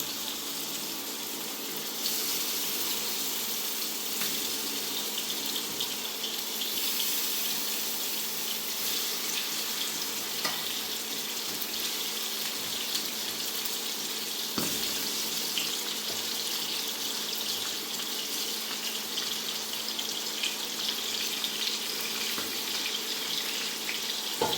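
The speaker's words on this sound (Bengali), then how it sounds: "এক এক করে মাছগুলি ফ্রাই প্যানে দিয়ে দেব।" River kalibaus fish fry in a heated frying pan, producing a continuous even hiss at moderate level that holds steady for the whole stretch, with only a couple of brief clicks.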